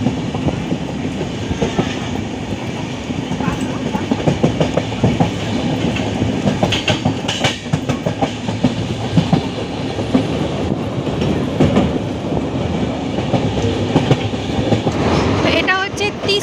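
A moving passenger train rolls along in rainy weather near the Teesta bridge, with a steady, loud rumble and rapid clickety-clack of wheels on rail joints, heard from inside the carriage.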